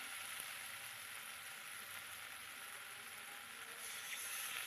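Masala spices with green chillies frying in a pan for fish curry, a steady, close hiss and crackle of sizzling oil that holds evenly throughout with no voices.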